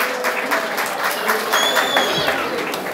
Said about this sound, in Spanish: Fuerte el aplauso para esta banda que suena en vivo